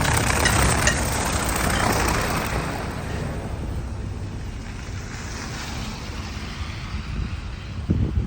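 A bus fitted with snow chains on its tires passes on a cold road, a loud, broad roaring rush that peaks early and slowly fades with a faint rattle near the end.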